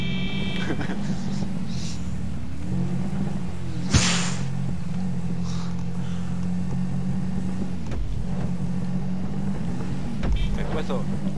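Quad bike engines in GTA V Online, with a steady droning motor hum throughout a race, a sharp knock midway and brief revs, under a player's excited talk.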